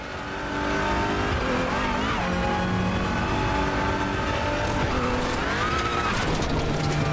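Race car engine in the Raceroom sim racing game, loud and sustained throughout, revving up and down with gear shifts and tire squeal, engine roar filling nearly the entire clip.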